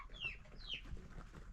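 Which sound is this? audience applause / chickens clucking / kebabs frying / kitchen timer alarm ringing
chickens clucking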